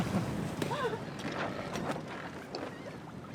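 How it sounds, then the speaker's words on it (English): A sailboat sailing into a channel in the Bahamas: a steady rush of wind and water with buffeting against the microphone, and a faint voice briefly in the background. "Nice relaxing sail into the channel."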